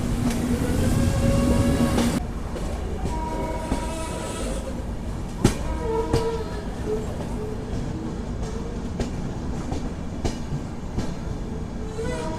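The Godavari SF Express rolls into Secunderabad Junction at platform 10, a heavy low rumble with loud hiss at first, then wheels clacking in sharp repeated knocks over rails and squealing brakes as it slows.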